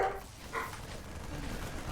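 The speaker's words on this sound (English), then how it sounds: "Oh, my dog is barking." A pet dog barks a few times somewhere off in the distance, faint and muffled, heard indoors behind a steady low background hum.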